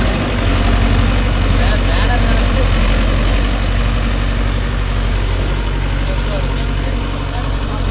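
A Mahindra Yuvo Tech Plus 575 4WD shuttle-gear tractor engine runs loud and close, a steady low diesel rumble throughout with a faint voice beneath it.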